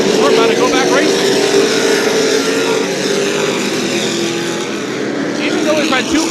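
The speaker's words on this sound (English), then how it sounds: "you can see and hear why super late models are the top rung of the ladder of short track racing" Super late model race cars roaring around the New Smyrna Speedway short track during a 50-lap race, a dense, continuous engine drone with shifting pitch as the pack passes, under a commentator's voice.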